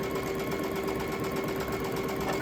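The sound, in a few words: sewing machine stitching a 1/4 inch seam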